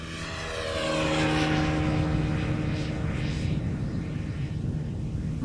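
A 14-year-old airliner passes at Amsterdam Schiphol Airport, its engine roar swelling in over the first second and holding loud and steady, with a tonal whine and drone underneath.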